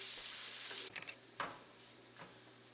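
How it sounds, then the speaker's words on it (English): Thinly sliced sweet onion sautés over low heat in a pan, a steady soft sizzle that cuts off after the first second, followed by a few brief stirring scrapes and clicks. "I'm just throwing in about half a sweet onion here, thinly sliced. We just want to saute this down to where they're nice, soft, translucent."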